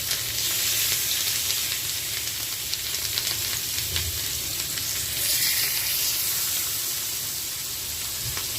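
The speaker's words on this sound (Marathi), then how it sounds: "आता मच्छी फ्राय करते" Masala-coated surmai kingfish pieces frying in hot oil, a continuous close, bright sizzle and crackle with a few light clinks, no voices.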